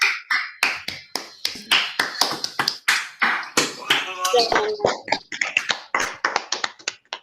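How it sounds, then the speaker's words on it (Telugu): Participants in an online elocution event clap over a video call, a run of scattered, sharp hand claps at uneven intervals that stay fairly close and clear, with a voice speaking briefly in the middle. "అందరూ వెయిట్ చేసినందుకు అందరూ ఒక్కసారి క్లాప్స్ చేద్దామా?"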